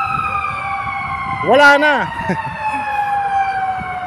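A fire truck siren wails briefly through congested Manila traffic near a blaze, rising and falling once over a steady engine hum while someone speaks nearby.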